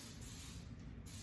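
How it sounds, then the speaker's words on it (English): A short, steady burst of coconut oil cooking spray hisses close by from an aerosol can, continuous for about a second. "I always prefer to use coconut oil spray."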